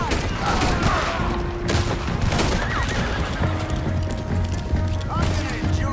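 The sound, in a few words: gunfire in the video game Red Dead Redemption II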